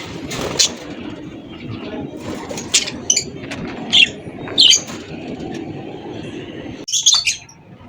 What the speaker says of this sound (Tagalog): Ayan yung mga breeders natin na parakit.